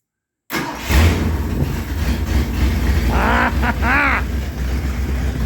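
A 1970 Ford Torino engine rescued from a junkyard fires up abruptly after silence and runs loud and rough at a fast idle close by, with brief voices heard over the steady roar.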